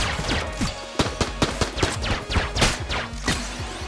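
Rapid bursts of AK rifle fire in the video game Enter the Gungeon, many sharp overlapping shots crackling in quick succession, dense and loud throughout with no voices.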